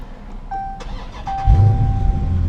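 2018 Dodge Challenger 392 Hemi R/T Scat Pack catching and firing up after a couple of chimes, a loud low engine roar settling into a deep rumble; no talk.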